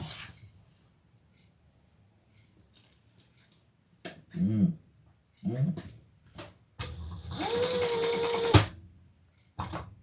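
A sewing machine stitching around the inside of a garment piece in short bursts, with a couple of brief runs followed by a longer steady whirring stretch of about two seconds, close and clear with quiet pauses between.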